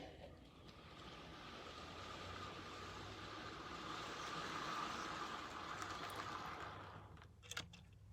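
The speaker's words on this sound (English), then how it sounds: "Haven't had any issues until now with this train running." A small train rumbles along continuously and quietly, a soft, even clatter with a faint click near the end.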